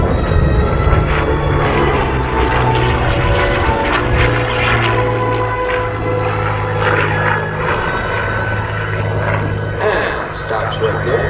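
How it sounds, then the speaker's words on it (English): A P-40 Warhawk propeller fighter performs repeated aerobatic rolls at an air show, its engine droning steadily with shifting pitch, heard with a commentator talking over it throughout. "Up comes the nose, rolls the airplane repeatedly to his left."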